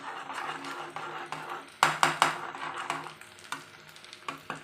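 Potatoes being mixed and fried in a pan, a quiet sizzle broken by several louder spatula scrapes and clinks against the pan, unevenly spaced across the stretch, with no voices.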